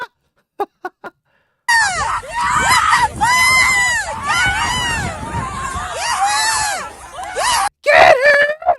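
Several voices yell and scream at an ICE protest in Central Texas, loud and close over a rowdy crowd, with a few sharp clicks before the shouting erupts.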